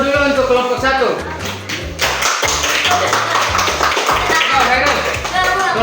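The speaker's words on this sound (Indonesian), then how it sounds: "Tolong beri aplaus dulu untuk kelompok 1" A school class applauds a student group, steady clapping running throughout, mixed with voices and a rhythmic low thumping backing.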